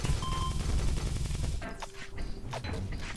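Gunfire in the video game Red Eclipse, a steady burst of rapid shots filling the first half, then thinner scattered shots and clatter after a brief lull.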